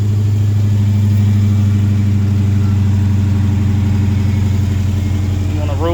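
2021 Dodge Charger Hellcat Redeye engine rumbling loud and steady from inside the car while driving, a deep constant drone throughout.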